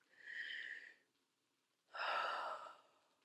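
A patient draws two slow, deep breaths during a doctor's examination, each a soft, airy rush of about a second, separated by a brief quiet pause, heard up close.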